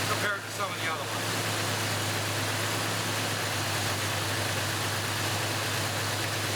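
A car engine idles steadily during a cylinder power balance test, a continuous low hum with a brief rough dip near the start, then an even drone throughout.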